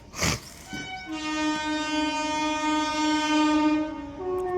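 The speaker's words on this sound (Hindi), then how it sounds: "देखो क्या हॉकिंग है" A loud, sustained Indian Railways train horn sounds nearby at a station as a train approaches, holding steady for several seconds after a brief burst of noise at the start.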